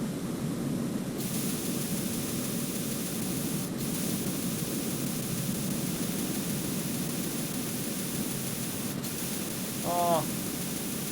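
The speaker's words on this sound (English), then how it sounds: "Use the coolant spray to put out fire." A steady hissing spray of coolant in the video game Metal Gear Solid 2 runs continuously for several seconds at moderate loudness, with a brief chirp near the end.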